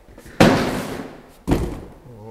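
Two sharp, loud bangs from an old door being worked on in a new workshop, one near the start and another about a second later, each trailing off, with low voices murmuring around them.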